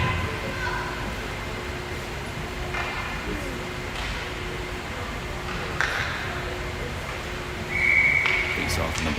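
A short, shrill referee whistle blast cuts through the murmur of an ice rink near the end, during a youth Pee Wee AA hockey tournament game.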